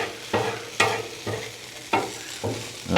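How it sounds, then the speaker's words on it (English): Food crisps in hot bacon grease in a pan, a steady sizzle punctuated by about six evenly spaced scraping stirs, each a short burst of louder crackle, close to the ear. "And we'll just crisp these up slightly in that oil."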